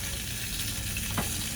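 Food frying in a hot cast iron pan, a steady close sizzle and crackle with a faint stir or scrape near the end, no talk.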